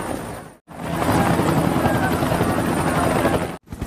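Loud, close military evacuation helicopter with a rapid rotor chop and engine roar, cutting in after a brief gap and continuing steadily.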